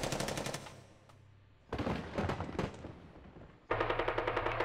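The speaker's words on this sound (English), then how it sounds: "Rocket artillery." Rocket artillery fires in the strategy game Hearts of Iron III, with rapid clustered bursts of bangs in two loud salvos split by a quieter gap, crisp and close without any voices.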